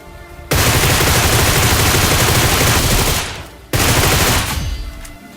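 Sustained automatic M4 rifle fire in the BGMI battle royale game, set up with a 6x scope and gyro aiming, loud and dense, in two long bursts separated by a short pause.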